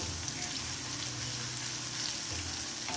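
Bay leaf and fresh coriander frying in hot oil, a continuous dense crackling sizzle held at an even level close up for a few seconds.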